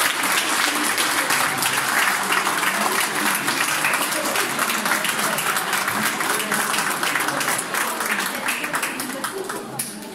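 A school audience at a dictionary handover for pupils leaving primary school applauds the teachers, a loud, sustained crowd clapping close by that fades slightly toward the end, with some voices mixed in.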